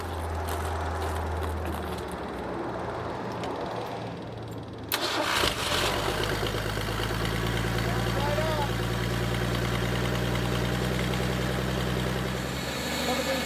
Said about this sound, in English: We're going to go ahead and get it started. So fuel pump is on.